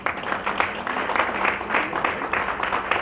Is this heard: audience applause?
yes